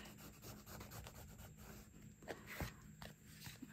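Tape being burnished down onto painted wood, a soft close rubbing and scraping with a few sharper scuffs, quiet and alone.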